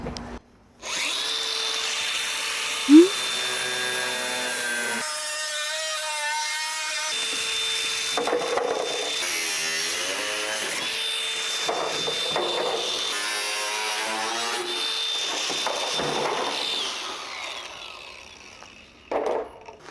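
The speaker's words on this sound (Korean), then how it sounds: "타일 재단하는 날을 사용해 주시면 됩니다" A power tool with a tile-cutting blade cuts through a small bathroom's dome ceiling panel, a loud continuous whining grind lasting many seconds whose pitch shifts as the blade bites, close and without talk.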